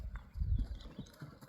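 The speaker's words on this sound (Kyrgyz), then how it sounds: "Кам сен атты тегеретип, оң сол буруп бастыра бересиң, а?" A four-year-old horse being walked and turned, its hooves clip-clopping in a few soft, uneven steps nearby at a horse market.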